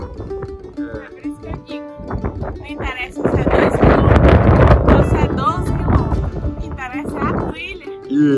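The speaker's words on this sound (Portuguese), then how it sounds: "Se liga só no vento." Strong Patagonian wind at Laguna Capri near Monte Fitz Roy buffets the microphone in loud, rough gusts that swell in the middle, while people talk nearby.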